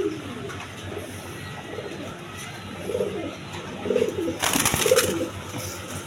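Female pigeons, a red Rajgolla hen and a Chuyachandan hen, coo in soft low bursts at a few points, fairly close against a steady background hum, with a brief noisy rustle near the end.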